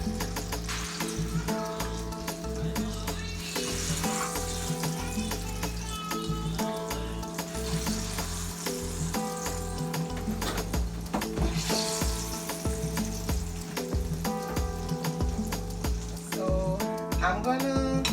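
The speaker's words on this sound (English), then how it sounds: "I'm gonna finish frying my plantains" Plantains fry in a pot of oil, giving a steady sizzle under a constant low hum, with a few clinks of utensils now and then.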